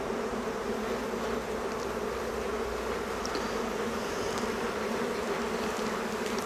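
Honey bees swarming around an open hive being split, a continuous dense buzz of many wings droning steadily at close range, alone with no talk.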